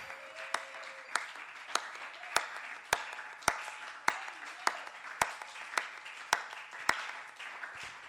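A church congregation claps during a worship service, a steady rhythm of sharp, loud hand claps roughly every half second that carries on through the whole stretch, with a faint hum of voices underneath.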